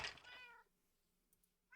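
Minecraft cats meowing, one clear drawn-out meow up close followed by a brief pause and the start of another, quiet and unaccompanied by talk.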